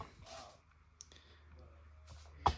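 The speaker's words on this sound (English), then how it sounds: "when you turn the key, a lot of keys are very solid on the clicks" Ignition key being turned on a 1982 Yamaha XT550 motorcycle, giving a few faint, sparse clicks in a quiet setting, with a sharper click near the end.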